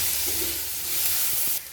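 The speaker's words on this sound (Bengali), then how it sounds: "তেলের মধ্যে একটু নাড়াচাড়া করে নেব" Chopped onions sizzle in hot oil in a pan, a close, steady frying hiss broken by brief clinks as they are stirred, with no talking.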